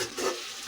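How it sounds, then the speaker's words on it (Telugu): Curry leaves and green chillies fry in a pan for drumstick rasam, a brief, soft sizzle with light stirring scrapes close by. "అలాగే పచ్చిమిరపకాయలు కూడా వేసేసుకొని ఇవి వేగనిద్దామండి."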